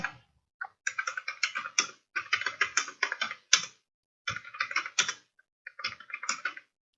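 Steady bursts of typing on a computer keyboard, close and fairly loud, with quick clustered keystrokes broken by short pauses; no voices.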